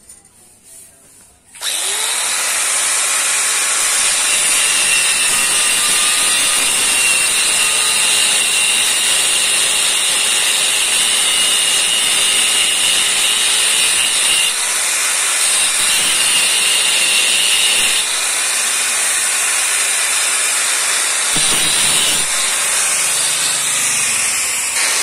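A power tool cuts through steel reinforcing bar for a concrete-rebar ring, a loud continuous grinding whine with steady hiss starting after a brief quiet moment and holding for the rest, alone without talk.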